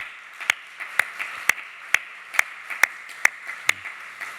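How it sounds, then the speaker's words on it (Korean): A church congregation claps together during a Korean Sunday worship service, about nine sharp, evenly spaced claps in a steady beat over a faint room hum. "박수를 하나님께 영광 돌리고 격려하겠습니다."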